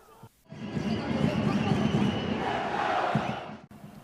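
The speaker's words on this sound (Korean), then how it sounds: "이창근의 선방에 팬들이 환호합니다." Football fans in a stadium crowd in Bangkok, Thailand, roar and cheer after a goalkeeper's save, a loud sustained wall of voices that swells and holds for about three seconds before cutting off.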